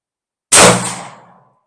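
A single sharp report from newly introduced defensive 9mm ammunition being test-fired: one loud, close blast with a long ringing decay, heard alone with no talking.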